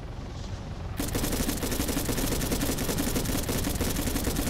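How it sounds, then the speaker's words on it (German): Sustained rapid gunfire in Arma 3, aimed at a helicopter cockpit, erupts suddenly after a quiet second and continues as dense, loud, rattling bursts to the end. "Ich schieß mal ins Cockpit."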